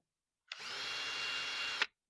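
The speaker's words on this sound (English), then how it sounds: "I feel like the drill bit's dull." A power drill with a dull bit whirs in one steady burst of about one and a half seconds, close and fairly loud, starting and stopping abruptly with silence on either side.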